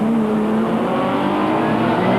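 A classic touring race car screams past at Mallory Park, a loud, sustained, high-revving engine note close by with a steady roar throughout.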